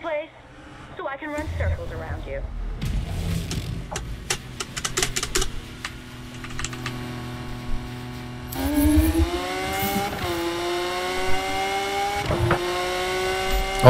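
A Porsche 911 Carrera RSR races in a video game, with engine notes climbing through gears in rising revving sweeps after a stretch of clicky menu sounds, and a voice talks over it.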